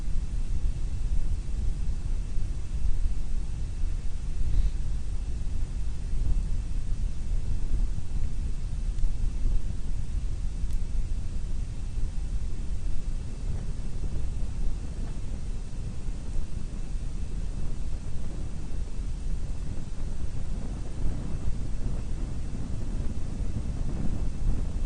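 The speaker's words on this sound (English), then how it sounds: "Looks like the wind's kicking down there pretty low" Wind near an erupting Hawaii volcano, a steady, loud roar of gusts buffeting the microphone, low and rumbling throughout with no pauses and no voices.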